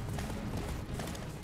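Horse hooves clip-clop steadily at close range in an Attack on Titan video game, a quick, even trotting rhythm under a continuous low background rumble.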